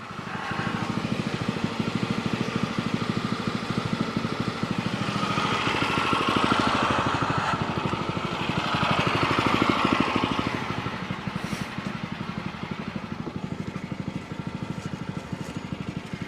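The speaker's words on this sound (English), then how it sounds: "So I leave my lawnmower running" A lawn mower engine left running idles steadily at close range, a continuous mid-pitched drone that swells slightly in the middle before settling, with no talking.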